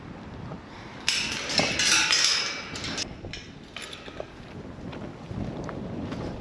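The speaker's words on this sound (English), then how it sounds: "Today it's hot and at least there's a wind" Hot wind at an Australian sheep farm buffeting the microphone in strong gusts, loudest early on and then easing into a fainter steady rush.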